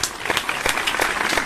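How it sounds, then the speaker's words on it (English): A round of applause from an audience, dense steady clapping that carries evenly through the whole short stretch without any voices over it. "Give this man a round of applause"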